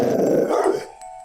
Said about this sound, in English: the sounds of a pack of dogs snarling and barking angrily